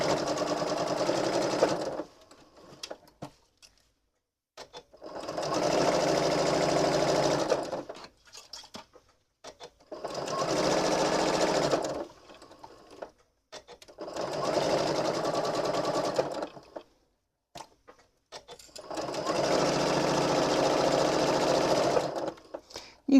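A sewing machine stitches silky satin fabric into ruffles, running in five steady bursts of rapid mechanical whirring separated by short pauses, close and clear.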